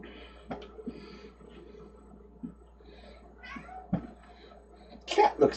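A cat meows a few times, the calls short and moderately loud, with the loudest cries near the end, in a room on a hot August night while people talk quietly nearby.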